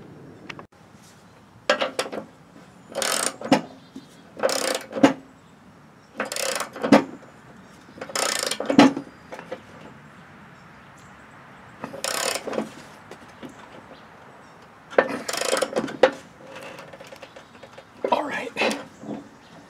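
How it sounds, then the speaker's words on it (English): A ratchet wrench tightens the spindle on a lawn tractor cutting deck, giving short bursts of clicking spread across the stretch while someone talks throughout. "So we'll torque that down."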